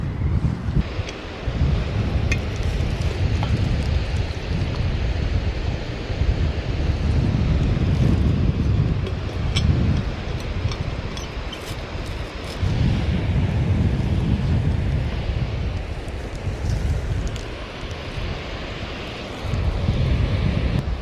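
Strong wind buffets a beach on a chilly sunny day, a loud continuous roar of gusts rising and easing, heavy low rumble against the microphone with possible surf beneath.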